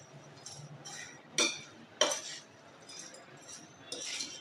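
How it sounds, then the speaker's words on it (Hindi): A spoon stirs and mixes nimko chaat with added vegetables in a dish, giving soft scraping clinks with two sharper metallic knocks against the dish, fairly quiet and close, with no talking. "तो अब हम इसको सिंपल मिक्स कर लेंगे"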